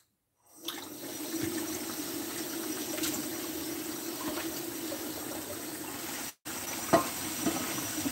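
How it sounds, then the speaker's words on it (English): Frying pan being cleaned, with running water and a sizzling, hissing wash that starts abruptly, carries on steadily with small clinks, cuts out briefly, then resumes, close and moderately quiet. "First, I do have to clean off the frying pan."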